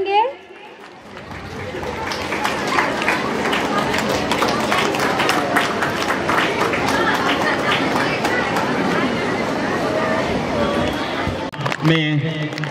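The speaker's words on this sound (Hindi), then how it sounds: "जोरदार तालियां बजाएंगे।" Sustained crowd applause and cheering at an outdoor football tournament ground in Gumla, Jharkhand, loud and steady for about ten seconds with babble mixed in, fading out near the end as a voice returns.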